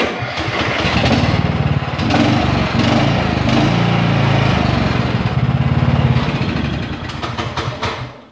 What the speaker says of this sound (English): Now the trick is you gotta wiggle the key around to start the engine.